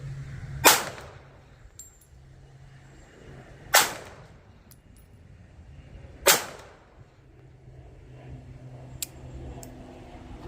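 A North American Arms Guardian .32 ACP pistol fires three sharp, evenly spaced shots outdoors at a range, each a loud crack with a short ringing tail, with quiet background between.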